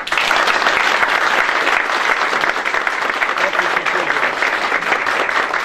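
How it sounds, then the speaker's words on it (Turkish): Loud, sustained applause from a crowd at a political party event, thick continuous clapping heard close and steady throughout. "Onu böyle canı yürekten bir alkışlamak istiyorum"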